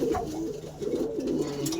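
A small male racing pigeon coos close by, with several soft, rolling calls running through the short stretch and low murmurs between them.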